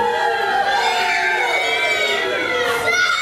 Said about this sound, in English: And Rory Steel just revelling in the crowd's boos there